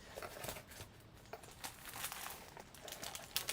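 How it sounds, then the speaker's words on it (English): Crinkling of a package wrapper, a soft irregular crackle of plastic rustling close by in bursts, quiet and steady with no talk over it. "Can you hear over the crinkling?"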